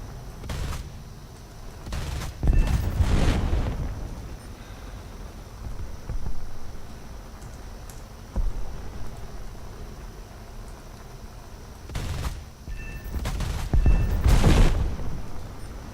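Aircraft gunfire during a strafing run in the video game War Thunder, several loud bursts of rapid fire in clusters, separated by a steady engine-like drone.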